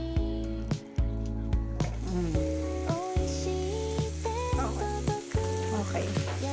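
White onion sizzles steadily while frying in butter in a pan, a continuous close hiss that runs under prominent background music with sustained tones.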